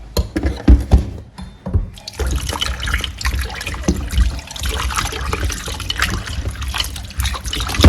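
Peeled cocoyam is washed under running water, with a steady splashing flow into a bowl or sink, irregular handling splashes and knocks up close, fairly loud throughout.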